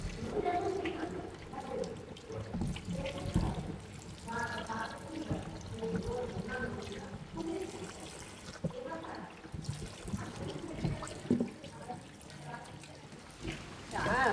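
Food being washed under running water from a tap in a Sri Lankan home kitchen, a steady trickle and splash under talk from nearby voices.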